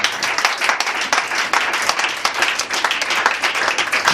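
A church congregation breaks into loud, sustained applause, dense overlapping clapping filling the room from start to finish.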